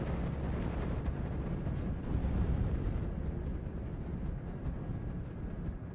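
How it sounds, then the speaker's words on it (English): Half-tracks fire on a Stuart tank and an infantry squad in a WWII strategy video game, a dense, continuous battle roar that stays loud and heavy throughout without distinct separate shots. "Half tracks firing upon the Stuart and the infantry squad."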